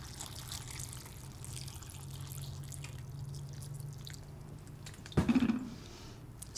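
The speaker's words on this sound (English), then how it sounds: "We're going to fill up the bowl with water." Water runs into a bowl of sprouting beans as a faint, steady trickle, then a brief, louder splash and slosh comes near the end.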